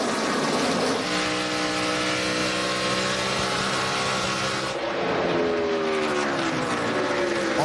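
NASCAR stock cars racing at the 2011 Brickyard 400 at Indianapolis: a loud, continuous roar of engines, with one car's pitch shifting as it passes close by and fades away, followed by another engine rising in pitch.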